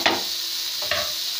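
Prawns fry in hot oil with a steady broadband sizzle, with a couple of brief louder bursts near the start and just before the middle of this short stretch.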